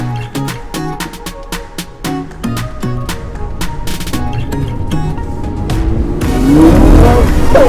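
Lamborghini Gallardo LP560-4 fitted with a sprint booster accelerating hard, a series of rapid engine bursts and revs building into a loud rising roar with tire noise, heard from close by.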